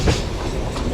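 A passenger train coming into Vishnupuram junction rumbles steadily up close, a short clatter of wheels standing out at the start before the noise evens out.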